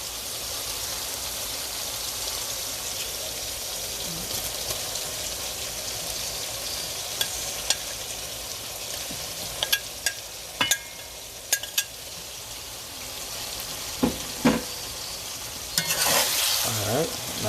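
Saltfish sizzling in a hot pan for a Jamaican ackee and saltfish dish: a constant crackling fry with scattered sharp clicks and scrapes as a utensil stirs against the pan, ending in a louder burst of stirring.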